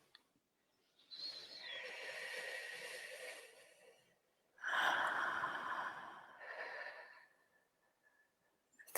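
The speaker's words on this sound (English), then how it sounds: "Take a deep breath in." A slow, deep inhale and exhale during a guided meditation, two long airy breath sounds separated by a short pause, close and soft with no talking over them.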